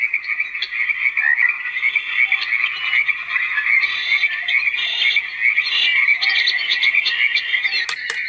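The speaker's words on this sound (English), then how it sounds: "Frogs." Dense, continuous croaking of many frogs in a steady chorus from an AuCuTee S5 white noise machine, loud and unbroken, with no other sounds.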